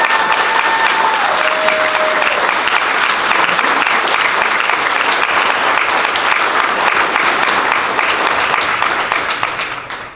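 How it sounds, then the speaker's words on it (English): Audience applause at a Franklin Township Chamber of Commerce anniversary event, a dense steady wash of clapping from a sizable crowd that holds loud for about ten seconds before tapering at the end. "tonight I would like to applaud all of you"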